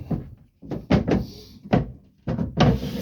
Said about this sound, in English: I have problems with these drawers.